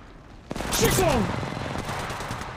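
Gunfire in the shooter game Apex Legends, a sudden loud burst of shots followed by rapid crackling fire that tails off, with sweeping whistling tones during the burst.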